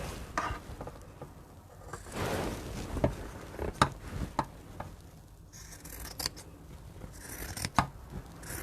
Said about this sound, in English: Making sure you don't cut into your sewing line.